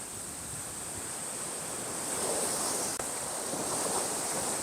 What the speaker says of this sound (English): the waves are similar to this.